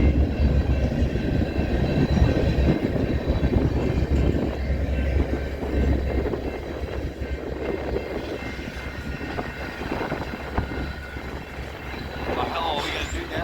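An empty westbound coal drag rolls steadily past with distributed power units on the rear, one a KCS locomotive, giving a continuous loud low rumble of wheels and cars that holds throughout, with faint voices underneath.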